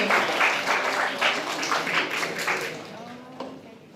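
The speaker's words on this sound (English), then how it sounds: "Please give applause to Dr. Josephine Yao Tan Weng." Audience applause for a certificate recipient at an international summer course ceremony, a steady burst of clapping that gradually thins and fades toward the end.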